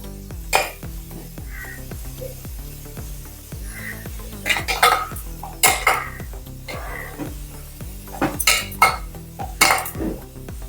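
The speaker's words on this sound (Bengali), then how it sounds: "ভালো মতো মেখে নিচ্ছি।" Samosa dough is kneaded and mixed by hand in a bowl, giving a run of soft, irregular bumps and clinks against the bowl that grow louder and denser in the second half.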